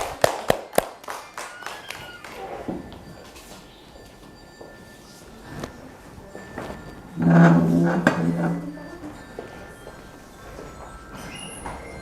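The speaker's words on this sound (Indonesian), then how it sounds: "kasih aplaus dulu" Brief applause for two women teachers, Bu Nurin and Bu Rita, during a teachers' session: a short burst of scattered claps at the start fades quickly, followed by quieter room noise and a loud hum partway through.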